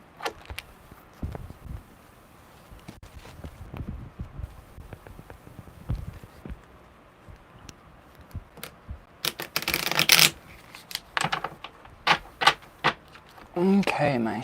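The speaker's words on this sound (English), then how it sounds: "let me give it one more good shuffle" A deck of tarot cards is shuffled by hand in bursts of crisp riffling and soft slaps, loudest near the end, amid quiet handling noises.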